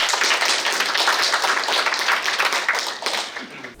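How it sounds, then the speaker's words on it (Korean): An audience at the founding assembly of an interfaith national-security coalition claps warmly for a pastor, a dense, sustained round of many hands that tapers near the end. "말씀을 해주신 우리 김용환 목사님께 더 뜨거운 박수 부탁합니다"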